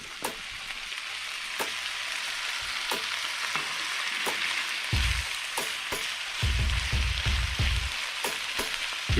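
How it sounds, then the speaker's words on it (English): Boiled noodles frying and browning in butter in a pan, a steady close sizzle with crackling pops and occasional louder bursts as they are stirred, no talking. "we're gonna cook these up and brown them just like those onions. Gonna brown these noodles."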